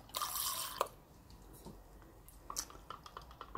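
Thick acrylic paint pours in a few soft, wet blubbing drips and plops, quiet and close, with short gaps between them.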